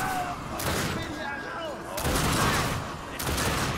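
Rapid gunfire in The Darkness 2 video game, a dense run of shots in two loud bursts with a brief lull between, while someone talks over it.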